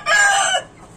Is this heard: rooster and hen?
yes